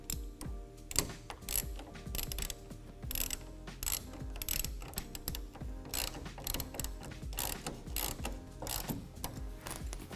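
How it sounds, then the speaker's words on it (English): A 1/2 inch ratchet locking down a clamp on a Gator SR1 Pro roll-up tonneau cover on a 2020 Ram 2500 pickup, rapid bursts of close clicking ratchet strokes in repeated rhythmic pulls, with no talk. "lock down this first clamp using a 1/2 inch"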